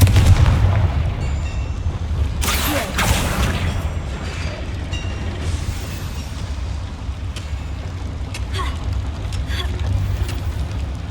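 Confringo fire blast spell exploding in Hogwarts Legacy, a loud booming burst of fire over a constant low rumble of game ambience, followed by fainter crackles and small pops.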